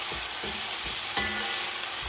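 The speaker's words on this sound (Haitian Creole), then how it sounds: "On va mélanger pour pouvoir bien frit avec l'ail." Beans and garlic sizzle steadily in a hot pan while a utensil scrapes and stirs them a few times, close and clear.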